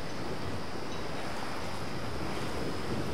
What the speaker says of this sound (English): See these waves rolling in.